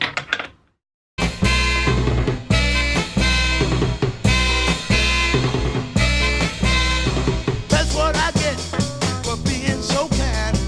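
After a brief silence, an up-tempo funk track kicks in with tight drums, bass and rhythmic instrumental stabs, steady and energetic.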